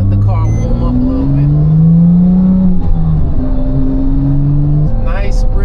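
A Porsche Turbo engine warms up, idling and revving in steady low droning waves, loud and close, with pitch rising and falling as the motor runs.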